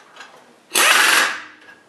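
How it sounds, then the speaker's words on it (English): A Chicago Pneumatic CP7732 stubby half-inch impact wrench drives a bolt with a socket, giving one loud, close burst of hammering rattle lasting about half a second before it winds down. "Just going to go ahead and throw in a socket and put this bolt in."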